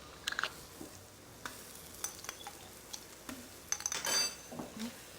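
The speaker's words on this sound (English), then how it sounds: "Stir that in." A spoon stirs Thai red curry paste into vegetables in a pot for pork curry, giving soft intermittent clinks and scrapes against the metal over a faint sizzle, close and fairly quiet.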